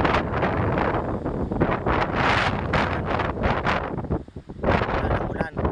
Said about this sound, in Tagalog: konting hangin na lang ang nandito